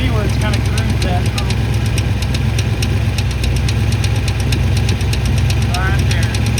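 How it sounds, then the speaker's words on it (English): Starter gear tapping against a grooved flywheel on a Chevrolet K5 Blazer, heard as a rapid, steady metallic ticking over a constant low engine drone that runs throughout, close and loud. "it's tapping that starter gear and making noise"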